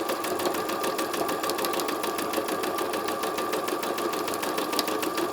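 A sewing machine stitches a small four-patch patchwork quilted coaster, giving a steady, rapid mechanical clatter close up throughout without pause and with no talking.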